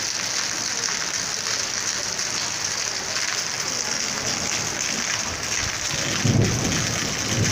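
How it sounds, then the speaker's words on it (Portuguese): Heavy rain pours steadily in a street in Serra Talhada, Pernambuco, Brazil, a dense continuous hiss, with a low rumble of thunder building near the end. "Olha o trovão aí."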